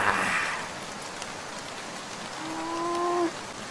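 Steady rain falls in a Bengali fairy-tale cartoon on an early morning in a village, a continuous soft hiss with a brief tonal sound near the end.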